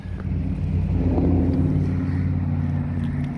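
A 1966 Ford Mustang engine runs steadily up close after just firing, a loud low rumbling idle with a slight rise in revs early on, its exhaust clogged with mud from sitting in a ditch.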